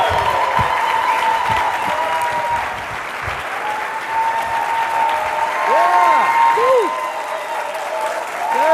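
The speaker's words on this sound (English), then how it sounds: "let's receive him with a big applause" An audience at a business presentation gives sustained applause to welcome a speaker, a dense, steady patter of many hands with a few cheers and voices rising through it.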